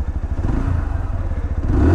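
Zontes Mantis 125 motorcycle engine at close range, a fast pulsing idle that climbs into a brief rev at the end.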